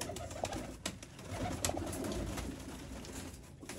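Breeder pigeons cooing at a pigeon keeper's loft in Sangjani, Rawalpindi, with soft repeated coos and faint scattered clicks over a steady low background, no talk.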